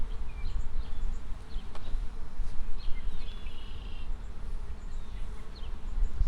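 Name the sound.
swarm of honey bees buzzing around hive frames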